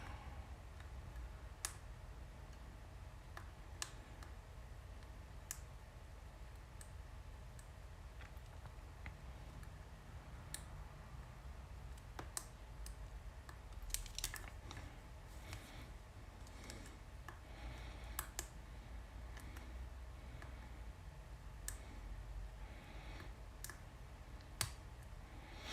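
Faint, sparse clicks from lock picking on an SFIC lock core tick at irregular intervals over a quiet, low background hum in a shop, with small bursts mid-way and near the end.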